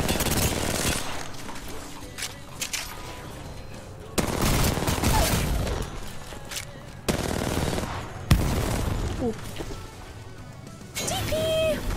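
Rapid automatic gunfire from Apex Legends rattles in dense, loud bursts, broken by a few sharp cuts and impacts, with a player's voice coming through over the shooting.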